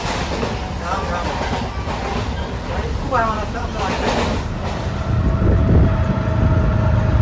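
Steady rumble of a nearly empty local train running along the rails to Karwar, with rhythmic clatter and faint voices in the background, growing heavier toward the end.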